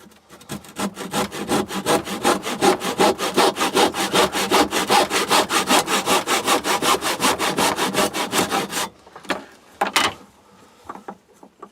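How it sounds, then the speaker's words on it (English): A hand saw cutting small scrap wood pieces for a little wooden garden man, about forty quick, even back-and-forth strokes up close, then the sawing stops and a few light knocks and handling sounds follow. "you just keep cutting all the bits now until you've got enough for both legs"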